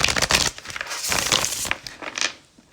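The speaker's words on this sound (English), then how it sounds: "Let's shuffle the deck." A deck of oracle cards being shuffled by hand, quick papery riffles and slaps in several short bursts, close by and fairly loud with no talking.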